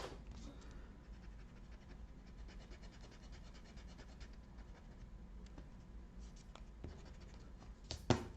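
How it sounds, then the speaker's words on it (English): Eraser rubbing pencil lines off paper, a soft steady scrubbing at close range, quiet and continuous, ending with a small tap. "I'm gonna erase away the pencil and see what it looks like."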